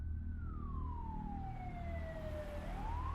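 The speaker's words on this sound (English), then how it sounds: "the sirens reached a fever pitch as the ambulance arrived on the scene" An ambulance siren wails in a slow falling then rising sweep over a low engine rumble, fairly quiet and somewhat distant, as the vehicle arrives at an accident scene.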